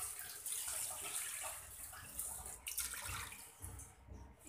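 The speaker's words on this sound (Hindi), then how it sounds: "अब हम लोग इसके अंदर ऐड करेंगे 2 ग्लास पानी।" Two glasses of water are poured into a cooking pot of beef korma, a soft, continuous splashing and gurgle of liquid heard faintly and close, with no talking.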